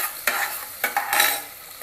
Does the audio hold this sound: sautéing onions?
yes